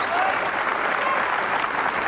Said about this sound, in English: Crowd appreciating the belter of a match.